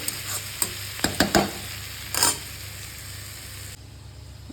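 Food frying in a pan until reddish gives a steady low sizzle, broken by several sharp scraping stir clicks in the first half before settling into a quieter, even crackle.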